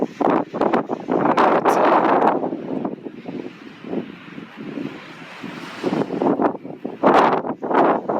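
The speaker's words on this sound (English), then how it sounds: "It's super windy up here." Strong gusty wind on a mountain saddle in Conejos County, Colorado, buffets the microphone, with loud roaring bursts that ease briefly in the middle and then surge again.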